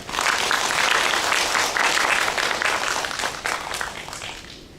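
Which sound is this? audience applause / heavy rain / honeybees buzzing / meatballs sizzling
audience applause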